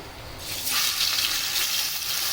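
Bele fish, salted and rubbed with turmeric, frying in hot oil with a steady, fairly loud sizzle that jumps up about a second in and then keeps a dense, crackling hiss, with no voices.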